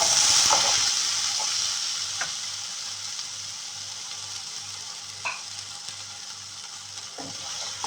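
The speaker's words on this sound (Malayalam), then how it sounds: "ഞാനിവിടെ ഒരു പാനിൽ 2 ടേബിൾ സ്പൂൺ എണ്ണ ചൂടാക്കി അതിലേക്ക് 2 മീഡിയം സൈസ് പൊട്ടറ്റോ തൊലി കളഞ്ഞ് കഴുകി ചെറുതായി അരിഞ്ഞത് ഇട്ട് കൊടുക്കുന്നു." Two medium potatoes, peeled and finely chopped, sizzle in hot oil in a pan, a continuous close frying hiss with a few sharp stirring clicks, fading slightly over time.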